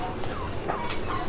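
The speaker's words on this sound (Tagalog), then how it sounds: "yan, pabo," A turkey gobbles at Garin Farm in Iloilo among mixed poultry, with quick warbling calls rising over a steady, noisy outdoor background.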